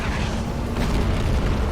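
A severed boss arm thuds to the ground behind the player in Dark Souls Remastered, a dull, heavy boom layered into steady low game rumble with no voices over it.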